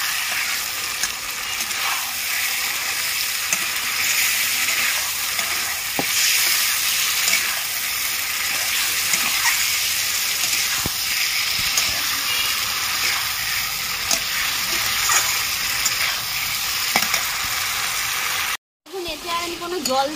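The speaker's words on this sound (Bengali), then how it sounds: "ভালো করে কষিয়ে নেব" Chicken for dum biryani sautéed in a pan with no added water, a continuous close sizzle and occasional stirring scrapes, cutting out briefly near the end.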